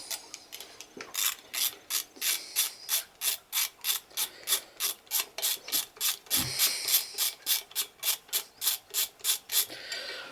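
A ratchet wrench clicks in a fast, steady rhythm, loosening bolts on a high-mileage Chevrolet Trailblazer engine during thermostat housing and alternator removal. It is close and clear, with dozens of even ratcheting strokes and a brief metallic knock partway through.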